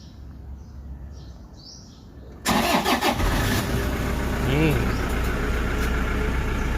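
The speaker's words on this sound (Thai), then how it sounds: "เราจะสตาร์ทแล้วนะครับ" A car engine is started during a battery and starting-system check, with a quiet lead-in, then a sudden cranking catch into a steady close idle. Someone speaks over it and birds chirp faintly.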